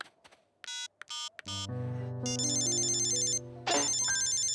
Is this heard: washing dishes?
no